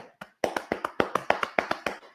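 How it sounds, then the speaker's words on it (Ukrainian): Palms tap alternately on the shoulders with arms crossed over the chest, making about a dozen soft, crisp pats in a steady, even rhythm, close and clear with no talking. "схрестіть руки перед собою, покладіть ладонь, долоні собі на плечі і почергово постукайте ним"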